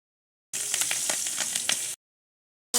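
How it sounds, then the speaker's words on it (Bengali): Green chillies and bay leaves hit hot oil and sizzle sharply and close up with crackling pops for about a second and a half. After a pause a short burst of frying returns. "এবার ওই তেলেতে কাঁচা লঙ্কা আর তেজপাতা দিয়ে দেবো"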